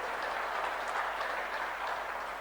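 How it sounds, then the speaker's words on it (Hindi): An audience claps to welcome state ministers at a political gathering, a steady wash of applause that sounds somewhat distant and holds evenly for a couple of seconds. "दोनों का जोरदार तालियां बजा करके स्वागत करिए।"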